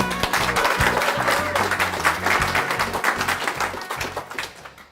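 An audience bursts into warm, sustained applause to welcome a speaker at a talk, with dense clapping filling the room steadily for about five seconds before easing off slightly at the end.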